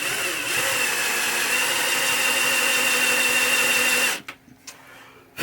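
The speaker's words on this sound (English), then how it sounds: "We're going to just let the drill land, because these are already drilled and dimpled." A power drill runs in reverse to drive pop bumper nails on a 1980 Williams Firepower pinball machine, a steady close whine for about four seconds before cutting off, followed by a couple of faint handling knocks.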